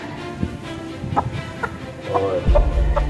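Scattered clucks from a hen pop up every so often over a constant background rumble and noise, growing a little louder toward the end.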